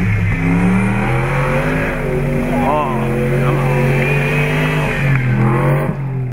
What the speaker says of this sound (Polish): Miłośnicy koni, ale tych mechanicznych, podziwiali zawody samochodowe off-road.